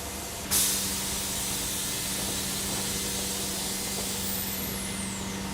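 A vacuum table draws two sheets of plywood down onto a curved form, producing a sudden loud burst of air and then a steady, even hiss with a low hum running beneath it.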